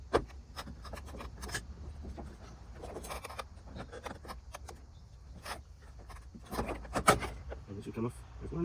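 Plastic side panel being pried up and out from a Zodiac MX8 pool cleaner: close scraping, rubbing and small clicks, with a sharper cracking snap near the end.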